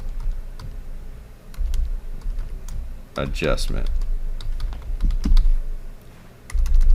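Steady clicking of typing on a computer keyboard, close and continuous, with someone speaking briefly partway through over the keystrokes.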